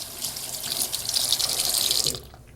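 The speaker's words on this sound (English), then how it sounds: "They usually go ahead and get the soap first, then turn on the faucet, and then quickly wash it." A sink faucet runs steadily for handwashing, a close, bright rushing stream with splashing, then cuts off abruptly near the end.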